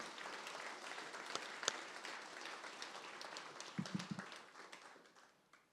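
An audience applauds a community sports program founder and his family at a city's State of the City event, a steady wash of clapping lasting several seconds with a few sharper individual claps standing out.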